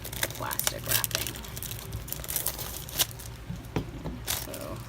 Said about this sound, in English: And then we're going to rip off the plastic wrapping.